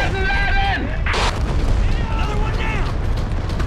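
Artillery and gunfire boom in the Call to Arms war video game, with a sharp blast among heavy low rumble while voices shout orders over the battle noise.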